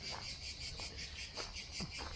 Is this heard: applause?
no